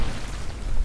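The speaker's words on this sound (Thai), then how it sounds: "เครื่องระเบิดครับ" A blast in a Special Force esports league match, heard as a sustained dense low-frequency rumble that holds steady and loud through the brief moment with no talk.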